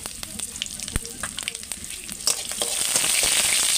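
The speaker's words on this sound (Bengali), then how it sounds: "দেখো তেলটা আমার গরম হয়ে গেছে। এবারে তো আমি 5 ফোড়ন দিয়ে দিয়েছি, দিয়ে দুটো তেজপাতাকে ছিঁড়ে দিয়েছি আর কাঁচা লঙ্কা।" Panch phoron, torn bay leaves and green chilies fry in hot oil for a home-style spinach and prawn curry, giving a dense crackling sizzle with sharp pops that swells louder and steadier toward the end, no voices.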